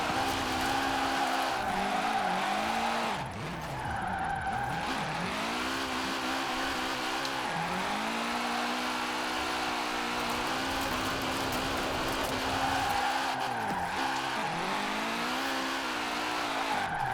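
Tires squealing as a car drifts through a corner in Forza Horizon 4's Drift Adventure, a loud continuous screech of rubber with the engine revving and rising and falling in pitch, no talking.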